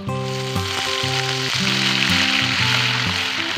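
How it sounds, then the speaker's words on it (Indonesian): Spice paste sizzles steadily in a hot pan, with a loud, continuous crackling fry that runs throughout under a stepped melodic tune playing in the background. "aku goreng dulu bumbunya"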